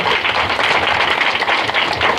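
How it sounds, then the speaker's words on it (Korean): Award ceremony audience claps for the congratulatory speakers, a brief, steady burst of many hands at moderate distance with no voices over it. "수고해주신 두 분의 축사자분께 다시 한번 큰 박수 부탁드리겠습니다"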